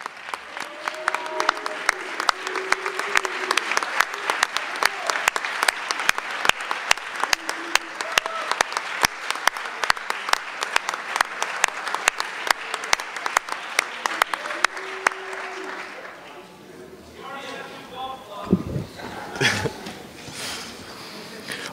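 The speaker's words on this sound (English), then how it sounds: "Let's have one more round of applause for Joey P." Audience applause at a Penn State Altoona athletics recognition ceremony for an honoree named Joey P., steady dense clapping for about fifteen seconds that then fades into a few scattered claps and quiet room noise.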